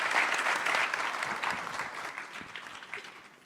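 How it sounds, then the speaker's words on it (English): An audience at the G-STIC conference closing plenary applauds a panel discussion, thick clapping from many hands that starts strong and slowly thins and fades. "A round of applause once again for that remarkable panel discussion."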